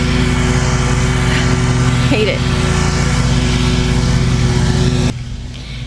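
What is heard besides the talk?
lawnmowers and leaf blowers running outside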